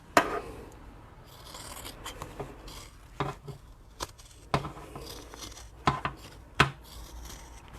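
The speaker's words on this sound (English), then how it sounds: "I'm just going to trim back that seam" Cheap, blunt IKEA scissors trim a fabric seam on a tote bag, giving a quiet string of sharp snips and metallic clicks spaced irregularly, close up with no talking.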